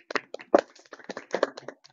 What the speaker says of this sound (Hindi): जोरदार ताली बेटा जी